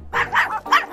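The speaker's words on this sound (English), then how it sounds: "a dog," A dog barks in a short sound effect, three or four loud, close yaps in quick succession with no talking over them.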